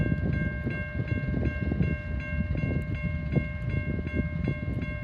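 A CSX freight train rolls steadily past at the Deshler rail junction, a close continuous rumble of wheels and cars with a sustained, multi-tone horn chord sounding throughout over the heavy roar.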